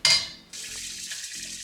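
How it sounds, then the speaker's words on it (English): Two cups of plain white rice being washed in water, a brief splash and clatter followed by a steady soft hiss of running water. "I'm going to wash this to remove the free starch."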